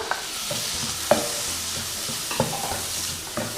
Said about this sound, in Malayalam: തക്കാളി നന്നായിട്ട് വഴറ്റിയെടുക്കണം.